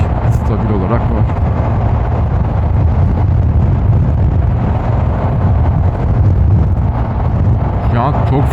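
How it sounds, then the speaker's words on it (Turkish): Strong headwind buffeting a rider on a Zontes 250 TE motorcycle at highway speed, roughly 110 km/h, between Istanbul and Tekirdağ; a loud, steady low roar of wind and engine fills the whole stretch without letup. "Şu an çok fazla rüzgar alıyorum."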